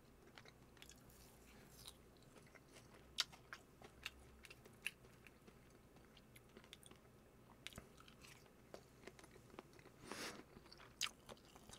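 Someone eats Korean beef bone soup with rice and jeon at home, giving quiet close-up chewing and crunchy bites with scattered soft clicks and scrapes, no talk.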